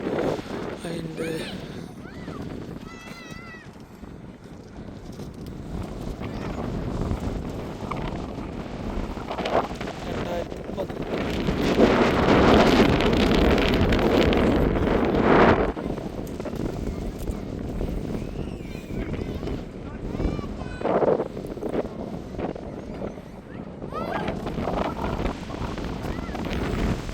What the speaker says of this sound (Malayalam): ഇപ്പം നല്ല കാറ്റാണ്